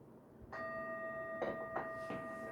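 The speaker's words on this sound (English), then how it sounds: "when does this bell end? It's still going." A single small bell strikes once and its tone rings on steadily, sustaining faintly with a few soft knocks in the background but no talk.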